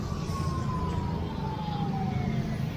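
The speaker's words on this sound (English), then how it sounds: "Looks like an ambulance." An early-morning ambulance siren wails at a distance during a rainy walk, its pitch sliding slowly downward as it passes, set against a steady wash of rain and traffic rumble.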